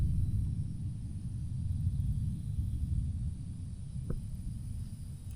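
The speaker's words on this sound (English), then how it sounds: "You hear how it just like rolls and rolls and rolls?" Thunder rumbles far off over a river landing, a low continuous rolling roar that keeps going without clear peaks and stays steady and moderately quiet.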